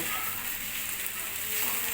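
Onion and green chili sizzle together in a hot pan, giving a constant close hiss with no talking.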